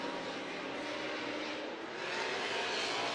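Two V-engined drift cars roar continuously on track at a Formula Drift round in New Jersey, a dense, steady blare with no pauses.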